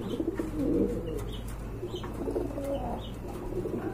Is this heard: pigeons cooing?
yes